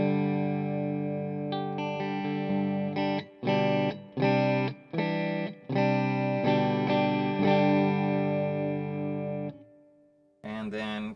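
A PRS SE CHLEO electric guitar on the outer coils of its bridge and neck pickups plays clean, sustained chords through effects, struck in a series of held strums with short gaps, bright and close, ending abruptly.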